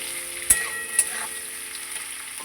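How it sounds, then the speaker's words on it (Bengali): Chopped onions for a mutton curry fry steadily in hot oil, a constant close sizzle with two sharp ticks of a stirring utensil early on and no talk. "1 কেজি মাংসে 500 পেঁয়াজ, এটা একদম লাল লাল করে ভাজবো।"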